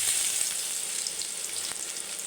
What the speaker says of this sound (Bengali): গরম তেলে আমি দিয়ে দেব রসুন কুচি,